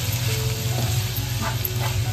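Tomatoes frying in a pan with onion and ginger-garlic paste for pav bhaji, a steady close sizzle with light stirring scrapes throughout, no voices.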